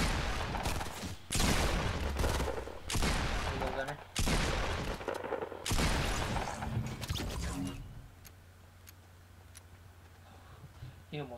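Bursts of automatic rifle fire in a Fortnite squad match, several rapid volleys in close succession with pauses between, while a player talks over the game audio.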